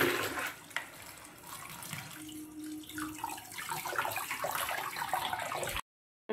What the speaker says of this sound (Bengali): একটু জল দিয়ে ঠান্ডা জলে ধুয়ে নেব